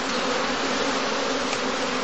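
A dense, steady hum of many bees buzzing at straw heather skeps in a heathland apiary, constant and fairly loud with no voices.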